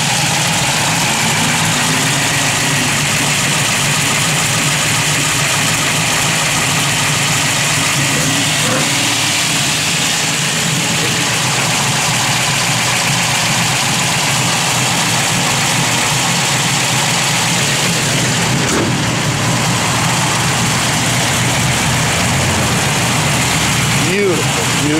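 A 1970 Chevrolet Nova SS sits idling, its engine holding a steady, rumbling low throb up close throughout, with a voice talking over it at times.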